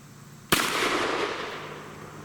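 A single sharp 10mm Auto pistol shot from a 5-inch barrel cracks out loudly, followed by a long, decaying echo that rings on for well over a second.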